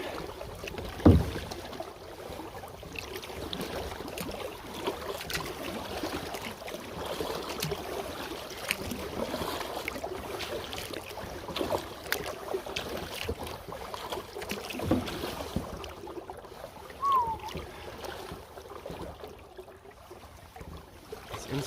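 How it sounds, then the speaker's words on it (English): A canoe or kayak is paddled along a stream, with low, continuous water rush and gentle splashing strokes close by, plus faint wind buffeting the microphone and an occasional knock against the hull. "Keep on paddling, keep on paddling."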